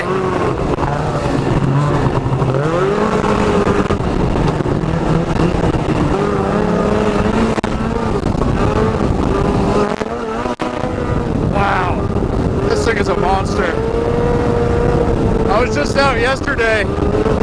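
Snowmobile engine droning and revving loudly up close while riding across a farm on thin snow, steady throttle with surges and a brief dip, a voice faintly audible under it.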